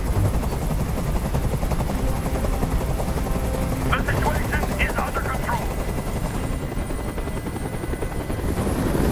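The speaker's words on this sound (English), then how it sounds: "I can't stand that noise anymore. Tell that helicopter to get out of here." A helicopter's rotor drones loudly and steadily throughout in the video game Detroit: Become Human, with a voice briefly speaking over the constant thrumming noise.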